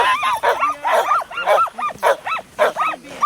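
Sled dogs at a cold Willow 300 race checkpoint at Susitna Landing yip, bark and whine in a rapid, overlapping chorus, close and loud with barely a pause.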